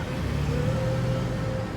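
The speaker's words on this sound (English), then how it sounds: "that was a Hemi V8 coming from a Dodge Durango" A Dodge Durango's Hemi V8 engine rumbles steadily at a distance, a low throaty drone holding one pitch, fairly faint against the outdoor background.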